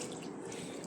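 Evaporated milk, two tins' worth, pouring steadily into a mixture while making a cocktail drink, a continuous close liquid stream with no talk over it.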